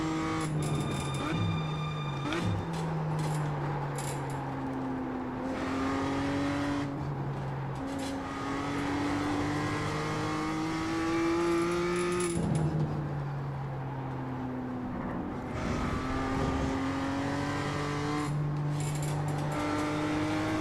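BMW M2 Cup race car engine pulling hard around the Daytona circuit, rising and falling revs with repeated upshifts, loud and close throughout the lap.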